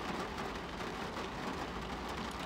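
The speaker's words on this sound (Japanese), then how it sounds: "でも雨なんでね" Steady rain falls outdoors in Japan as a dense, continuous hiss of drops, loud and unbroken throughout, with no voices over it.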